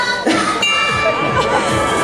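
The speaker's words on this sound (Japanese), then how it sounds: "その素敵な鐘がですね" A bell rings a few times at a Kyushu fair in a Fukuoka hotel, with bright metallic dings and lingering ringing overtones, mixed with some background clatter and faint voices.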